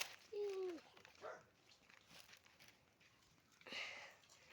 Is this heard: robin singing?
no